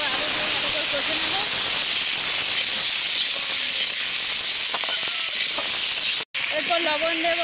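Potatoes fry in hot oil with onions, a loud, broad sizzling hiss filling the whole stretch, with faint clinks and a brief dropout near the end.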